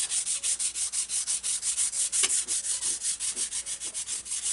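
Worn 120 grit sandpaper rubbed along the edge of a wooden glider wing, a rhythmic series of about twenty quick scratchy back-and-forth strokes, close and fairly quiet, with no talk.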